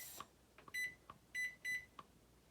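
Kitchen timer being set for a batch of s'mores bars, sounding as a few short electronic beeps and brief chirps, some spaced out and others in quick repeated bursts, close and fairly quiet.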